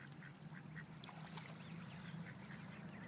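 Ducks, including baby ducks, quack repeatedly in short bursts over a steady low hum, with scattered goose honks mixed in; several birds call at moderate distance in Colorado.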